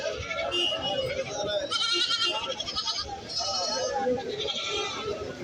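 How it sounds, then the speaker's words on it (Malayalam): Goats, including kids and a large billy goat, at a busy livestock market in Kerala, bleating repeatedly at close range over the crowd's murmur while people talk nearby. "ഒരു മുട്ടനാട് വലിയ മുട്ടനാട് നിൽപ്പുണ്ട്"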